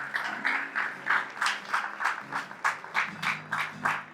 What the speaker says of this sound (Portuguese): dá uma salva de palmas para Jesus, bem forte